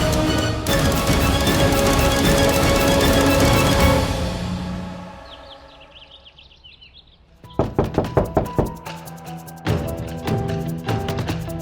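Knocking on a home's front door early in the morning: a quick burst of about five loud, sharp raps after a swell of dramatic background music, followed by further knocks with music continuing.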